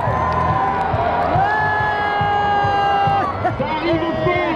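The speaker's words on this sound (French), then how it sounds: "ça arrive fort, ça arrive très très fort, les applaudis bien fort" Crowd noise at a ski race event at La Clusaz, a steady roar of cheering and shouting under a loud announcer's voice over a PA system, sustained throughout.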